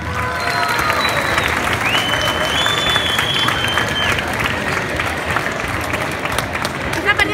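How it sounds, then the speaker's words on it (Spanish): Sustained crowd applause with cheering at a cosplay performance award at an anime convention, dense steady clapping throughout with scattered shouts and whistles over the hall noise. "¡Ese aplauso!"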